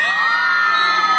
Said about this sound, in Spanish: ¡Que se escuche el grito!